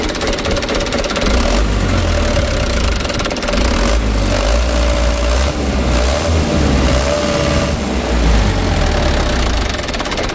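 A Mitsubishi Canter truck engine, close and loud, revs repeatedly, its pitch hanging high and sinking only slowly back toward idle each time, with a rough mechanical knock running beneath the drone.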